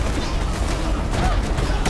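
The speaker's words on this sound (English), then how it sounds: "I don't know what these explosions are." Explosions in the Path of Exile action game, a dense, continuous barrage of crackling, booming bursts that stays loud and busy for the whole stretch.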